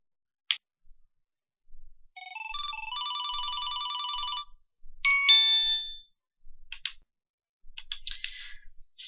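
Phone message alert: a short ding, then a sustained electronic multi-tone ringtone for about two seconds, followed by a bright chime and scattered clicks and soft blips, clean and close with silence between.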